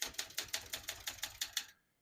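Keys strike steadily on a 1965 Olympia SM9 vintage portable typewriter, about ten crisp evenly spaced clacks close up, then the typing stops.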